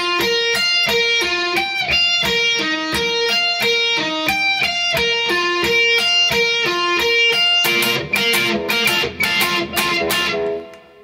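Guitar plays the chorus of a song, a steady, bright line of evenly picked notes that shifts to denser, harder-strummed playing near the end, with no voice.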